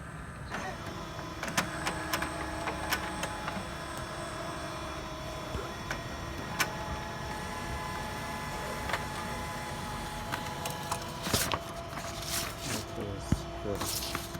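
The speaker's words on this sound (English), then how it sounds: "Yes, and the printer is working." An HP Color LaserJet M182/M183/M155-series printer runs after a toner repair, giving a steady mechanical whir with repeated clicks and ticks, close by, while people talk over it now and then.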